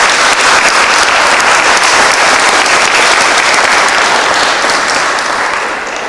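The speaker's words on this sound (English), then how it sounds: "Could you please give them a round of applause?" Sustained audience applause fills an awards ceremony hall, dense and loud throughout before easing slightly at the very end.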